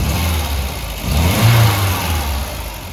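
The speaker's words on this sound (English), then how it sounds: "The engine sounds way better." A VW Golf Mk1 with CIS fuel injection running after a fuel pressure adjustment: a steady, close engine note that swells slightly in the middle of the clip, as if briefly revved, with no voices.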